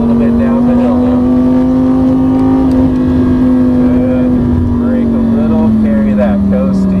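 A Lamborghini supercar's engine pulls steadily uphill on a driving course, a sustained close engine tone gradually dropping in pitch as it accelerates, with an instructor's voice talking over it.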